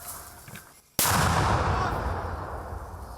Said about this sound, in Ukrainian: Це поруч працюють мінометники.